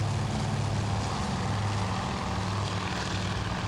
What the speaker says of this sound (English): Looks like another enemy plane going down.